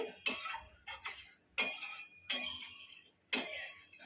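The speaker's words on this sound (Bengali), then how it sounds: "এইভাবে কড়াতে যে মশলাটা লেগে আছে সেটাও ভালো করে আমরা ধুয়ে," A metal spatula and a spice-coated wok (kadai) being washed, giving five sharp metallic clinks and scrapes at uneven intervals, each with a short ringing tail, close and fairly loud.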